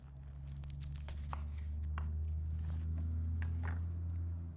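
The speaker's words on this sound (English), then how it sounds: "Get the paper off our onion." Dry papery onion skin being peeled off by hand in a kitchen, a run of soft crinkling and tearing crackles over a steady low hum, close and fairly quiet.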